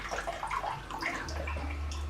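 Water pours into a jug during a sink-or-float science experiment at home, a steady close splashing and gurgling stream lasting about two seconds, with no talking over it.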